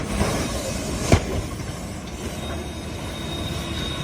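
A train rolls along the tracks at a crossing after striking a marching band equipment truck, with loud continuous rumbling, wheel squeal and a sharp bang near the start, heard up close with no voices.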